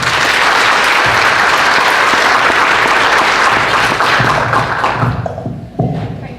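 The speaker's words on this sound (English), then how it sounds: "Can we get one more round of applause for all these students who did so great?" Audience applause for students at a school SADD Summit, dense steady clapping filling the room for about five seconds before thinning out into a few scattered claps and thumps.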